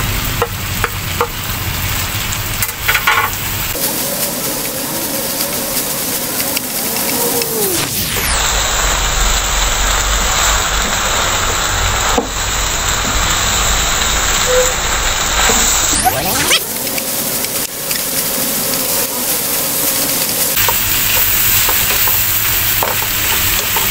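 Winged beans (sigarilyas) fry with chicken neck in a pan, giving a continuous loud sizzle with scraping stirring strokes that swell and fade, without talk.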